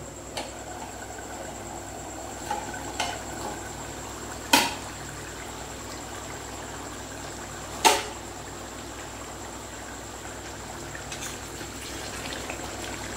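A metal lid is lifted off a pot of simmering chana dal on a gas stove, producing two sharp clinks over a soft, steady bubbling hiss, with no talking.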